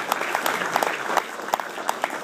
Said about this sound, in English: give a round of applause to the guys